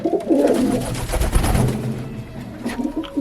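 Pigeons coo loudly and close by inside a loft, their throaty calls overlapping in a rolling murmur that fades toward the end.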